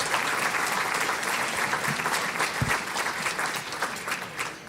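An audience at a Bay Area awards ceremony gives a round of applause: dense, sustained clapping from a crowd that keeps steady and fairly loud the whole time, with no voices over it.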